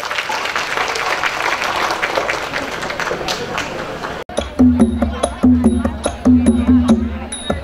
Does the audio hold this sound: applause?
yes